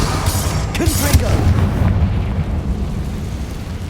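A Confringo fire-blast spell cast in the Hogwarts Legacy video game booms out as a loud, rumbling explosion with a burst near the start, mixed with game music and effects, while a voice speaks over it.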